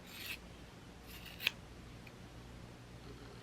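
Scissors snipping through a sock to cut strips, a few quiet close cuts with one sharper snip, set against a faint hushed background.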